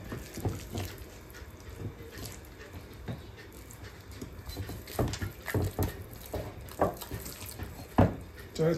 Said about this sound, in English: I always wash my meat, wash it off, and you know, get it clean.